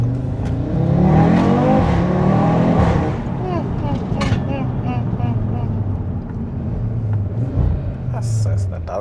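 An Audi RS3 with a custom downpipe rumbles loudly from close by as it downshifts, its revs swooping up and down in throaty blips while people talk over the engine.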